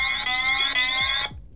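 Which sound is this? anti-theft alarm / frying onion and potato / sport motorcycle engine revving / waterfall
anti-theft alarm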